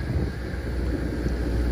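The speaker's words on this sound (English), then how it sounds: "you can hear the generator running" A generator runs on a mobile manufacturing lab trailer, a steady low rumbling drone close by, partly blurred by wind buffeting the microphone, with no talk.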